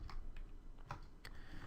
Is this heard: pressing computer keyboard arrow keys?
yes